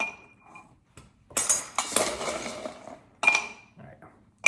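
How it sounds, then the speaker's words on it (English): Ice rattles and clinks against a glass as a cocktail is stirred, in bright, close bursts of jangling separated by short quiet gaps. "Let's give this a good stir."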